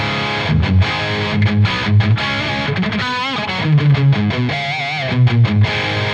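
Electric guitar played through a modded Marshall Plexi amp with the Jose mod and its extra gain stage, a distorted, saturated tone with chunky low chords and lead notes, loud and alone.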